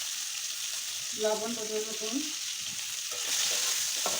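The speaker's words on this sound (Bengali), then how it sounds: "এখন আমি বেগুনগুলো ভেজে নেব।" Eggplant slices fry in hot oil in a kadai, giving a steady, close sizzle and crackle throughout, with a voice speaking briefly over it.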